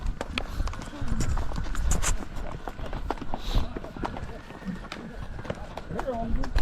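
Pony hooves clip-clop at a steady, repeated pace along a mountain trail near Pahalgam, Kashmir, close and clear, with people talking over them throughout.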